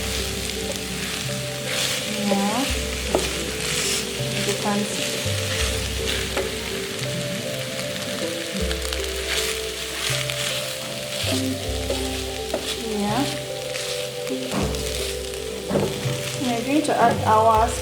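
Rice being stir-fried in a pan, natural rice tossed in hot oil, giving a steady close sizzle with scraping stir strokes and a brief voice speaking over it.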